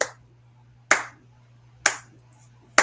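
A sharp handclap in a song strikes four times at an even, steady beat about a second apart, crisp and up front over a faint low hum.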